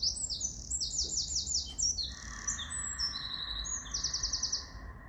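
Several birds chirp in quick bursts of high, rapid tweets, with a steady whistling call layered underneath, fairly close and lively.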